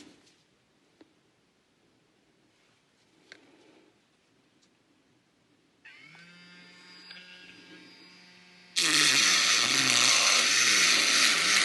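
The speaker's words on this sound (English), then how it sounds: "I'm going to try and sand that off" An electric nail drill sands dried glue off a nail, first starting as a steady motor whine with a low hum, then rising sharply into a loud, harsh grinding buzz as the bit bears down on the surface.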